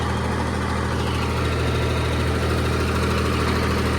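The engine of an old Swaraj 855 farm tractor, fitted with a rotavator, runs steadily with a loud, continuous low rumble and throb and no break or change.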